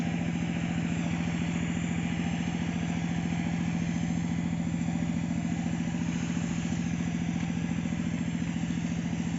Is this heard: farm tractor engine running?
yes